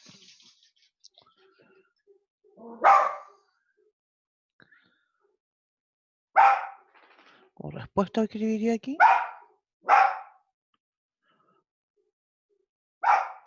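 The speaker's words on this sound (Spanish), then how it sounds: "Se para al lado mío ladrar este perro." A dog gives several sharp barks at intervals, close by, between stretches of quiet and a man's speech.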